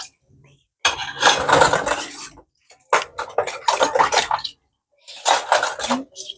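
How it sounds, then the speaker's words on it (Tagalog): Dishes clatter and scrape in bursts: plates and cutlery knocking and rubbing together at close range, with brief pauses between rounds. "Hugas mo na ako pinggan."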